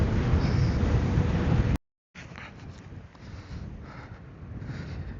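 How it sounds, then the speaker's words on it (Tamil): Steady broadband wind rushing against a microphone while riding a KingSong S22 Pro electric unicycle on a highway, briefly cutting out, then continuing as a softer roar. "இப்போ வண்டி எடுத்ததுக்கப்புறம் அப்படியே காற்று விசு விசு விசு விசுன்னு வீசுது"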